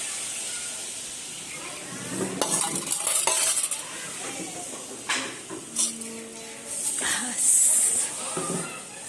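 Garlic hitting hot oil in a home kitchen pan, with bursts of sizzling and clattering stirring that come and go in short pulses, close by, while people talk over it.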